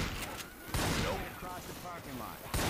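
Bursts of gunfire in the zombie shooter Left 4 Dead, a few sharp shots spread across the moment, mixed with game sounds and players talking.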